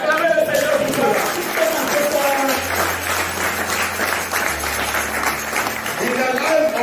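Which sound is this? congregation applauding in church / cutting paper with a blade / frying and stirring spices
congregation applauding in church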